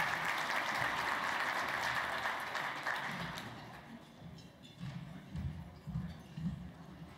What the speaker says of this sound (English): Give another round of applause for Dr. Johnson